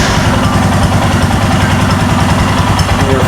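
A Royal Enfield Himalayan motorcycle fitted with a handlebar riser, its single-cylinder engine running at idle, a loud, steady, close-up throbbing rumble that holds even without any throttle change.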